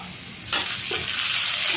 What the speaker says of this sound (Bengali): এখন এই তো মশলাতে একটু পানি দিয়ে নিলাম, পানি দিয়ে মিলিয়ে নিচ্ছি।